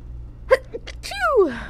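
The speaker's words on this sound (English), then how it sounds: "I'm gonna sneeze." A single loud sneeze from a nearby person, with a short sharp inhale before it and a drawn-out voiced release after.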